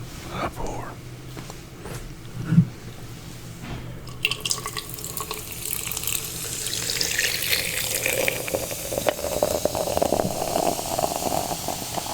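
A drink is poured into a glass in a close, quiet setting, a soft splash that builds into a steady rising trickle as the vessel fills, with low whispered talk heard before it.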